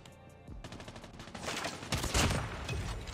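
Rapid shotgun and automatic gunfire in Call of Duty Mobile, a dense run of blasts starting after a brief quiet and building louder toward the end, with no voices over it.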